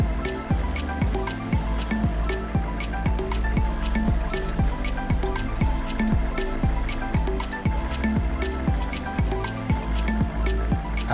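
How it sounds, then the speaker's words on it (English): Coconut milk poured gently into a pan while cooking ayikple, giving a steady run of close, regular liquid drips and plops with bubbly squishing underneath. "I pour it gently so that I don't add the debris that's settled at the base of the pan."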